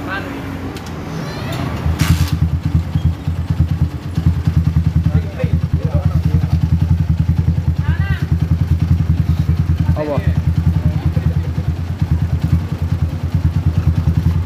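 A Honda CB motorcycle engine runs steadily at a low, throbbing idle close by, a constant rumble from start to finish, with brief voices talking over it.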